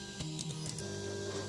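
A 3D printer homing its axes at the start of a print: steady motor whine and humming tones with a few short mechanical bursts, close and continuous, with no voices.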